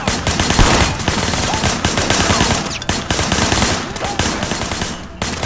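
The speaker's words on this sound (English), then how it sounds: "I want you to put some bullets in a few things." Dense, sustained gunfire in the action video game Sleeping Dogs, rapid automatic bursts blending into a loud, continuous barrage with only brief breaks.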